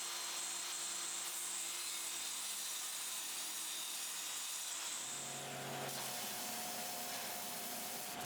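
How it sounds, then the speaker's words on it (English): A table saw whines steadily as it slices halfway through a wooden mallet handle, the blade's pitch shifting near the end of the cut. "on the table saw, carefully slice about halfway into the handles"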